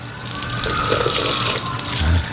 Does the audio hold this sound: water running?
yes